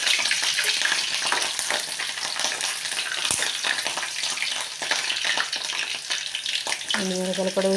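Green chillies fry in hot oil with a loud, steady hiss and crackle throughout, broken by a sharp metallic clank partway through and a brief tonal beep near the end.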